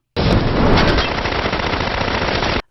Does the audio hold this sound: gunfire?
yes